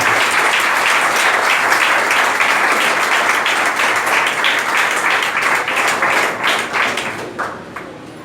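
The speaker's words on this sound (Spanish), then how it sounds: "Démosle un aplauso al Señor" A large church congregation claps steadily and loudly for several seconds, a dense wash of applause that thins slightly toward the end.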